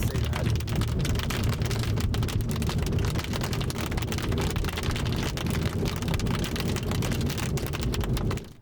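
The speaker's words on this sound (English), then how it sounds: "this hail hasn't been too bad here" Hail pelting down steadily during a tornadic storm near Braman, Oklahoma, a dense continuous clatter of stones on surfaces that holds loud and unbroken throughout before cutting off at the end.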